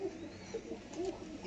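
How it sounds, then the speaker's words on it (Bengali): Sambalpuri Kalchoch pigeons at a pigeon sale give soft, low coos, several short murmuring calls close by in quick succession. "সম্বলপুরি কালচোচ পায়রা দেখে নিন"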